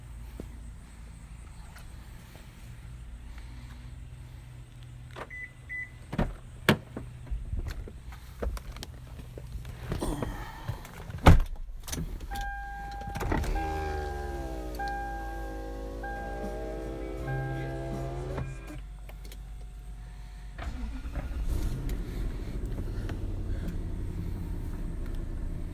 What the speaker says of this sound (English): First, I'll start the truck up and try to put it in high without the fluid